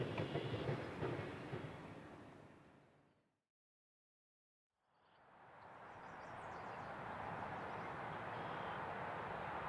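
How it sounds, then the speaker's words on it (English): A loaded CPKC ethanol freight train rolls into Barr Yard at Blue Island, a steady broadband rumble of cars that drops out briefly mid-clip and then builds back to a continuous, fairly distant roar. "A loaded CPKC ethanol train is entering Barr Yard for a recrew to run the train east."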